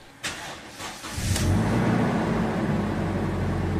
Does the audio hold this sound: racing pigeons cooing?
no